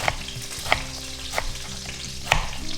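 Finely chopped onion frying in oil in a pan crackles and sizzles steadily up close, with occasional sharp spatula taps and stirring scrapes.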